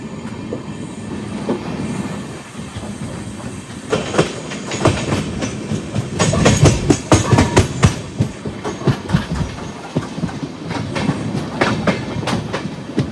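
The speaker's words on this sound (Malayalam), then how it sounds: "നമ്മുടെ കേരളത്തിന്റെ ഫസ്റ്റ് LHP പാസഞ്ചർ അങ്ങനെ കേരളത്തിൽ കയറിയിരിക്കുകയാണ്" An LHB passenger train on the Nagercoil–Thiruvananthapuram North line rumbles along, heard from on board with a steady roar, rhythmic clickety-clack of wheels over rail joints and loud clattering bursts midway.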